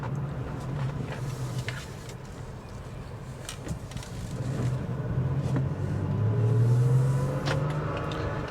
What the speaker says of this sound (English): Gonna get out here on the road and give it a test.